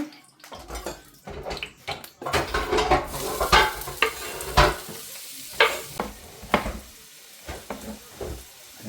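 A whole onion drops into a hot pan and sizzles loudly, with bursts of frying crackle and scraping stir strokes that rise and fall over nearly nine seconds.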